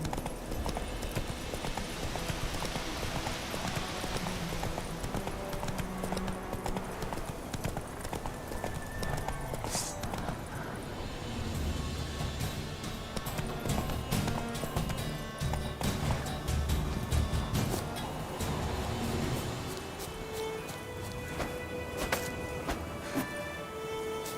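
Horse hooves clip-clop steadily in The Witcher 3 as a mount moves along, with a brief whinny or rustle mixed in, under busy game music and ambient noise throughout.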